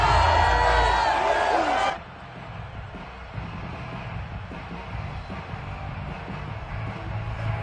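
A virtual home crowd in a Madden football video game cheers loudly for about two seconds, then cuts off abruptly into a quieter, steady stadium murmur.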